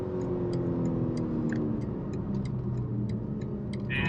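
A BMW G80 M3 Competition on a hot lap around a track, its engine a steady close drone with rising and falling tone and faint rhythmic ticking over the top.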